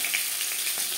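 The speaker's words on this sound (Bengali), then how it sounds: "তেজপাতা ভেজে নেওয়ার পর দিয়ে দেব আদা বাটা" Ginger paste hits hot oil already frying bay leaves and five-spice seeds, giving a brief, loud, even sizzle that hisses without pause.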